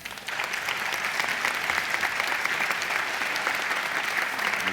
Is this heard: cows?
no